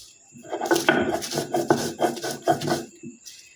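Chili, salt, fried onion and garlic are ground on a stone slab with a stone roller, making rhythmic scraping, rasping strokes about twice a second, close and moderately loud with no talk.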